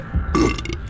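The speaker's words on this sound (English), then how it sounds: "I can burp the entire alphabet!" One close, loud burp, a short guttural rasp with a rough throaty texture lasting under a second, heard on its own.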